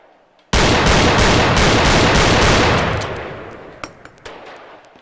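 A Desert Eagle pistol chambered in .50 Action Express fires in the VR shooting game Gun Club VR, a loud rapid string of blasts that blur into one roar and fade, then a few sharp clicks and clanks.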